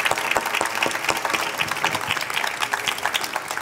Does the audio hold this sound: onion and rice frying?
no